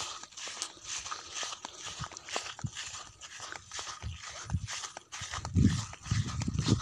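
Irregular hoof clops and shuffling steps of horses walking close by on a hiking trail to a farm, with soft crunching and rustling outdoors; no talking.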